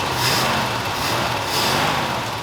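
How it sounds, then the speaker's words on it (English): A Ford F-250 pickup left abandoned for 21 years revs with a loud, close, rough engine roar that swells and eases over a couple of seconds, with no talk. "Just rev it up."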